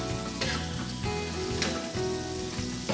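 Onions and peppers sizzle steadily in olive oil in a pan, a close, continuous frying hiss with faint crackles throughout, and no talk over it.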